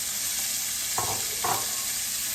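Onions and fresh garlic frying in a pan alongside lamb chops, a constant bright sizzle close up, broken by two quick stirring scrapes in the middle.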